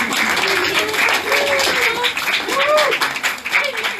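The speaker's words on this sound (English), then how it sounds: "you're applauding everybody in the room" Symposium panel audience applauding one another, a moderate wash of clapping from the room mixed with voices talking and calling out over it.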